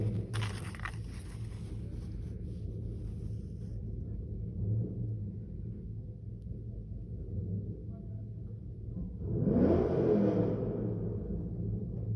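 A car engine idling and then revving in a neighborhood street at 3 a.m., a low steady rumble with a louder rising surge near the end, heard from some distance.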